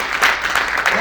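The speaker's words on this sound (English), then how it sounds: "one more applause for this music video" A film festival Q&A audience claps for a music video, a short burst of close, dense applause with a few louder hand claps standing out.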